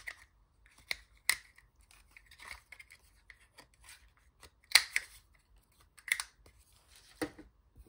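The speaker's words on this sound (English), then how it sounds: "Punch out two of these flowers." Flower-shaped paper punch cutting out paper flowers, sharp crisp snaps and clicks spaced irregularly in a quiet room, some louder and closer than others, with small rustles of paper between them.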